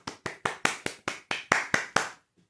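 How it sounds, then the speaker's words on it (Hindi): A woman claps her hands about ten times in a steady, brisk rhythm, each clap sharp and close, then stops, leaving quiet. "इसलिए ताली बजाई हूँ"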